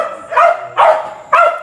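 A dog barks three times on a stage, each bark loud and close, with short gaps between them.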